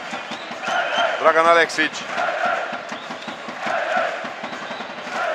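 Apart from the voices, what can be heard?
basketball home crowd of Szolnok cheering in a final push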